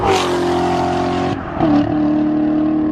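A Corvette Z06 engine revs hard and loud, with a brief dip in pitch before roaring back up and holding a sustained growl.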